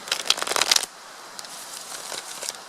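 A quick burst of tarot cards being shuffled on a lap without a table, papery riffling for under a second, followed by quiet with a few faint rustles.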